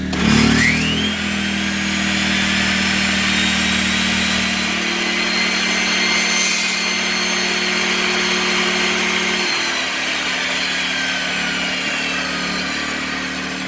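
A Ryobi 15-amp 10-inch table saw on a folding stand, powered from a generator, spins up and then runs with a steady loud motor whine and hum throughout, with no cutting and no talking.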